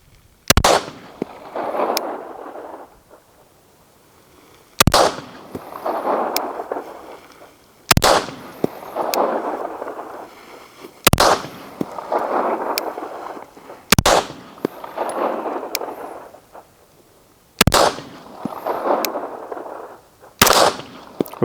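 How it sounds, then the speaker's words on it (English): A Monsoon Tactical full-custom M&P Carry Comp pistol with a Genghis Komp is fired at a target in slow aimed fire: seven sharp, loud shots spaced a few seconds apart, each with a ringing outdoor tail. "we're on to the Monsoon full custom gun. We'll see how it does"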